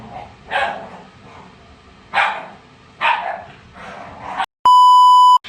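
A dog barks four times in separate loud bursts in New York City at night, followed by a sharp electronic beep at the end.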